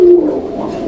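A male pigeon at a pigeon seller's collection gives one close, loud, low coo that swells and then fades out, with no voices over it.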